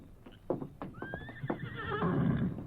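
A paint horse lets out a loud, quavering whinny that rises and trails off, with hooves clopping nearby and the horse stirring restlessly.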